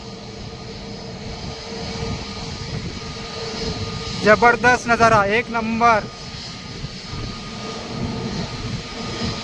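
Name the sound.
airplane engine at Mumbai airport runway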